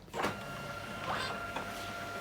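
A Brother MFC-L5900DW printer scanner running a scan: a mechanical whir and hum running steadily, with a couple of brief motor swells and faint tonal whine, close by and without voices.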